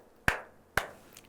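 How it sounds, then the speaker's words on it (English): Schoolchildren in a Class 2 English lesson clap their hands on command, making two sharp, distinct claps about half a second apart. Each clap is close and crisp with a quick decay, and the room is otherwise quiet. "then clap your hands again"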